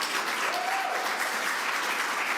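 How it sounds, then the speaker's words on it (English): Steady applause from an audience at a governor's policy briefing, a dense, even clatter of clapping hands that carries on without a break and with no voices over it. "I want to give a special round of applause to our mayor, Malik Evans."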